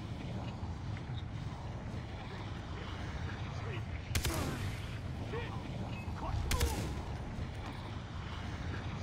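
Two sharp gunshots or blasts in the video game Far Cry 3 ring out a couple of seconds apart over a constant windy, rumbling background.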